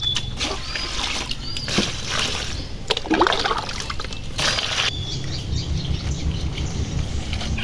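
Mixed leafy greens are washed by hand in water, with splashing and sloshing in irregular bursts, close and moderately loud, alongside faint bird chirps.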